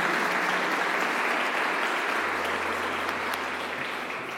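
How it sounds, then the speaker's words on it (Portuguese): Dense, steady applause from an audience honouring the mothers shown in a film, continuous and fairly loud throughout, with a low hum entering partway through. "Dá um aplauso para cada mamãe representada nesse vídeo."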